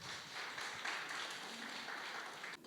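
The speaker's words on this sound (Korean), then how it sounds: "우리 정승영 교수님을 뜨거운 박수로 환영해 주시기 바라겠습니다" Audience applause in a lecture hall at a Korean academic seminar welcomes a tax professor to the podium: a soft, steady wash of many hands clapping, fairly distant and even, fading slightly at the end.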